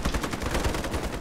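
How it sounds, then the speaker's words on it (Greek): A teammate fires a gun in the shooter game Ironsight: rapid, close, machine-gun-like shots ring out in a steady rhythmic burst that fills the whole moment with no talk. "Ο δικός μου ρίχνει για να φανερώσουμε τη θέση μας."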